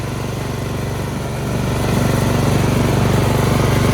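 A Husqvarna lawn tractor engine runs steadily as the mower drives around the block, a continuous close mechanical drone that rises in loudness partway through, with no speech.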